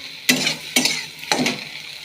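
Soybean chunks fry in hot oil in a kadai, with three bursts of sizzling and stirring scrapes spaced across a couple of seconds, close and clear, no voices.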